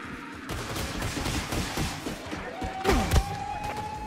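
Gunfire in the shooter Wolfenstein II, The Freedom Chronicles, with a steady run of rapid shots and thuds, a falling whine and a sustained tone near the end, all fairly loud within a busy game mix.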